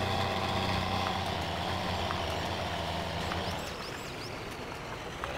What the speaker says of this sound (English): Gonna stall the engine.